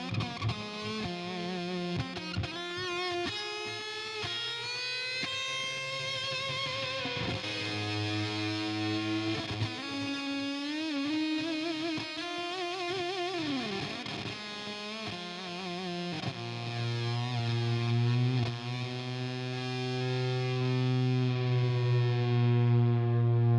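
Electric guitar driven through Vemuram distortion pedals plays sustained, heavily saturated chords and bends with a chorus-like shimmer, loud and continuous for the whole stretch, with no one talking over it.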